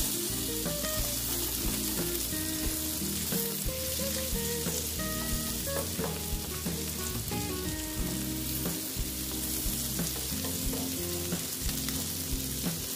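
Eggs fry in a little oil, a steady close crackling sizzle that carries on throughout with occasional stirring sounds and no talking.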